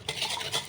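Bread dough ingredients, including eggs and a little oil, are stirred in a bowl: close, soft scraping and swishing strokes in a quick, uneven rhythm.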